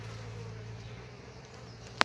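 Honeybees flying at the entrance of a hive hum in a low, continuous, fairly faint buzz, close by and steady, with a sharp click near the end.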